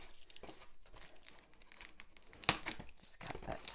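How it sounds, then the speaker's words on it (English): A small blade slicing packing tape on a Brother ScanNCut SDX1250 box, with crinkling and a sharp tearing snap midway among soft rustles of packaging, faint and close. "Just cut that tape."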